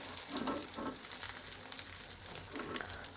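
Pieces of katla fish frying in oil in a pan, a soft continuous sizzle with occasional stirring and scraping sounds, heard fairly quietly without talk.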